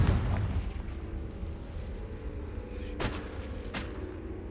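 In the Hogwarts Legacy video game, a Confringo fire spell explodes as a deep boom with a rumbling tail, followed by two sharper bursts near the end. No one speaks.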